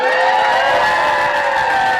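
A crowd of supporters at a sheriff's election-night watch party at a home, cheering and whooping loudly and continuously for two seconds.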